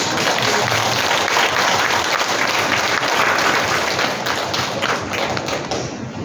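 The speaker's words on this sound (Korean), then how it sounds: "우리 심사에 박수를 쳐주십시오" Loud, dense applause from a church congregation fills the whole stretch, steady rattling clapping with scattered heavier thuds, sustained throughout and only thinning slightly near the end.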